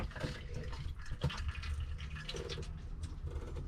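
Water draining from the pump of an old Yanmar YSM-8 diesel engine aboard a 26ft sailboat, a quiet trickling and splashing that runs steadily with small drips.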